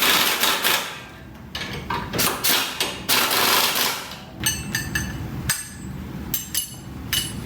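Ratcheting wrench snugging down strut nuts on an Acura RDX, a close series of rapid clicking bursts with short pauses between strokes, no talking over it.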